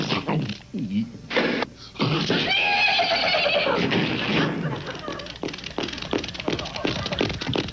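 A comedian on stage vocally imitates horses, with loud whinnying neighs and rhythmic clip-clop hoofbeats made by mouth, crowding the whole stretch with dense, energetic vocal noise.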